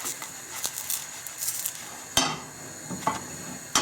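A pancake is flipped over in a frying pan with a palette knife, giving a few close scraping clinks of metal against the pan over a soft sizzle, with one sharper clank near the middle.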